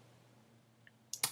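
A computer mouse gives a couple of quick sharp clicks near the end, close and crisp over a faint steady background hum.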